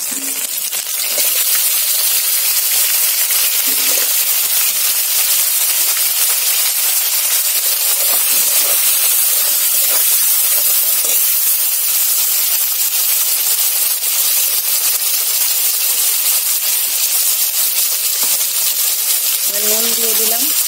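Chopped tomatoes added to a hot pan with cumin paste give off a continuous, loud, hissing sizzle that persists throughout, with faint intermittent voice sounds beneath it.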